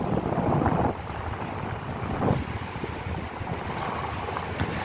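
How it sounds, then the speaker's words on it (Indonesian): Strong sea wind buffeting the microphone at the top of a stadium in north Jakarta, a loud continuous rumbling rush with gusty swells, no talking. "Anginnya cukup kencang teman-teman karena sudah berada di bagian atas ya"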